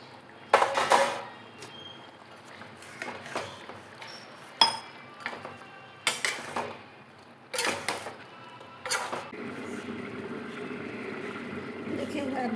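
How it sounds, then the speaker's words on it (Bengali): Fish pieces going into a pot for Bengali macher jhol with cauliflower and potato, a series of separate clinks and clatters of utensils and cookware spaced a second or two apart, with someone talking in between. "মাছ কাটা দিয়ে দিচ্ছি।"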